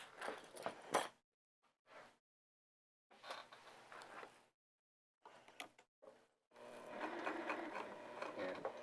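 A sewing machine stitches around a heart-shaped potholder in several short bursts separated by silent gaps, with a longer run at the end, fairly quiet and close.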